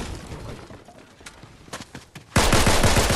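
Gunfire in Fortnite: a few scattered shots early, then a loud, dense rapid burst kicking in for the final second, close and harsh over quiet game ambience.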